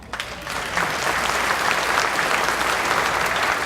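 Newly naturalized citizens at a ceremony break into applause, a full crowd of clapping that swells quickly after a brief start and holds steady and loud with no voices over it.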